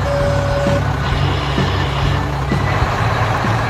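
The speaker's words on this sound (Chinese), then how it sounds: "这是一辆混凝土搅拌车，搅拌车正在灌装混凝土，" An animated concrete mixer truck fills with concrete, a steady heavy engine drone with churning rumble and a thin high tone running continuously, loud and close throughout.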